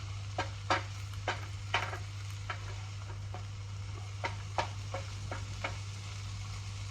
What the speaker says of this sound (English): We'll just stir these veggies around a bit and this bacon and onion.